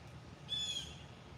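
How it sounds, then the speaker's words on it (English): A single bird in the woods gives one brief, high, thin chirp, faint and at a distance against quiet outdoor background noise. "That bird is chirping."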